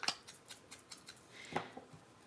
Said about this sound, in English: I want to cut the corner nice and big and round